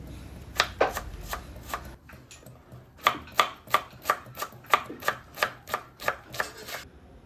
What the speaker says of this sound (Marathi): त्यानंतर आपण कांदा कट करून घेऊ.